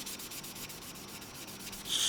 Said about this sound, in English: So very light, gentle sanding